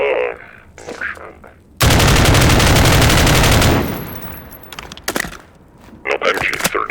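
MG36-based machine gun fired in Garry's Mod, a loud sustained burst of rapid automatic shots lasting about two seconds, followed by fading echoes and a few short bursts, with someone talking around the firing.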